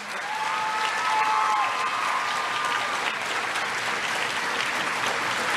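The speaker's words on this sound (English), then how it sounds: "Please give them a round of applause for everything they've done." A large graduation crowd at an early college high school ceremony applauds its teachers in sustained, even clapping, with a few brief high whistles near the start.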